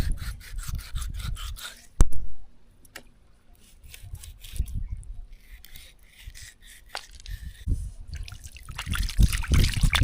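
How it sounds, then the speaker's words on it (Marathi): Knife cutting a murrel fish into pieces, with scraping, rubbing strokes against a board, a sharp knock near the start and bursts of louder sawing toward the end, no talk. "बघा मस्त कापून आता इथनं असं एक पीस बनवते"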